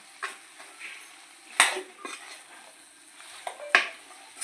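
Fried chilli chicken stirred in a pan with a metal utensil, irregular scraping and clinking knocks with a couple of louder clanks over a faint sizzle, no talking.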